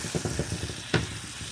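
Mushrooms and vegetables hitting a hot pan, a short burst of close sizzling and frying with a few soft stirring scrapes and one sharper clatter partway through; no voices.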